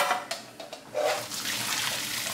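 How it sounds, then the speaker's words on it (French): Cooked broccoli being drained, its hot cooking water pouring out into a sink: a few splashy clatters, then a steady rushing gush of water, close and moderately loud, without speech. "Cuisson, le brocoli est cuit, on va l'égoutter."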